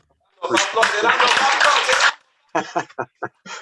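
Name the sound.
audience applause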